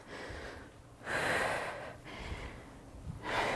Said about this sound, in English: Regulate your breathing.